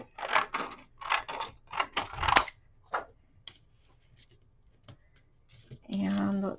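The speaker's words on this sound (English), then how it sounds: "get my big scissors out and cut a strip here to use of this acetate sheet" Big scissors cut a strip from an acetate sheet with a series of crisp snips and slicing rustles, close and fairly quiet. One short, buzzy rasp follows near the end.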